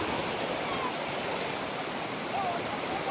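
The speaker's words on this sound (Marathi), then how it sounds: "जंगलातून असं धबधबो येता" A small forest waterfall at Amboli in the Konkan spills into a stream, giving a steady, even hiss of running water heard alone for a few seconds.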